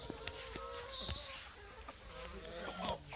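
Chickens raised on a home farm cluck softly in short, scattered calls over a steady outdoor background, faint and somewhat distant.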